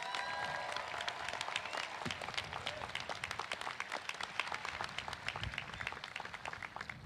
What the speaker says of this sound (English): Let's give them one more well-deserved round of applause.